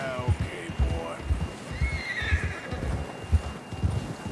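A horse neighs in Red Dead Redemption 2, its whinny rising over a steady rhythm of hoofbeats clip-clopping along a trail, with a low hum running underneath and a voice speaking briefly in the background.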